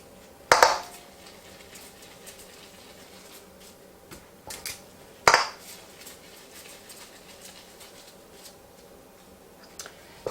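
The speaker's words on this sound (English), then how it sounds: "So we use a level scoop to make sure that your cooking time remains consistent." A level kitchen scoop portions sausage ball dough onto a baking tray, giving a few sharp, close metallic clacks spaced seconds apart over a quiet room hum, with no talking.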